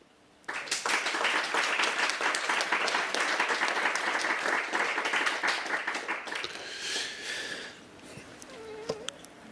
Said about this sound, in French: je propose également à l'Assemblée de l'élire par acclamation